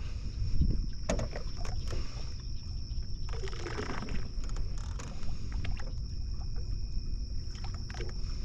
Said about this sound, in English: So that's why you hear it cavitating, because I can't lower it down anymore.